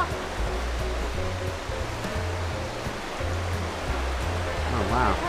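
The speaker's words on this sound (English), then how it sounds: "Falls, it's Penrith Falls in South Wales." Water pours steadily at Penrith Falls in South Wales, a broad, constant rushing roar that fills the scene at close range, with a low rhythmic thrum beneath and faint voices briefly in the background.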